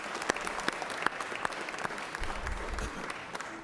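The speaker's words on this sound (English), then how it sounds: "So let's give them a round of applause." An audience at a Georgia Senate session gives a steady round of applause for the coaching team, a dense patter of many hands clapping that sounds fairly close and lasts throughout.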